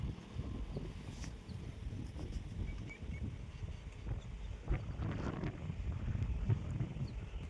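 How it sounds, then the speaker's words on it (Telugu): Strong wind buffets the microphone by a riverbank, a heavy, low, continuous rumble that swells and gusts throughout with faint scattered ticks above it. "గాలి అయితే చాలా హెవీగా ఉంది."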